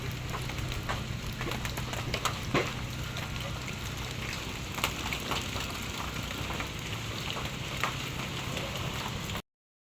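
Steady rain falling outdoors during an ongoing downpour, a dense continuous hiss of drops with occasional sharper nearby splats, even and moderately loud throughout before cutting off abruptly.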